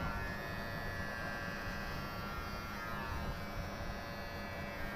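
A razor buzzes continuously and close by while shaving hair during an undercut haircut, a steady electric hum with slight fluctuations and no talking.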